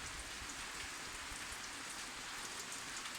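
Light evening rain falls on a mixed farm garden, a soft, steady patter of drops on leaves and ground, faint and continuous with no voices.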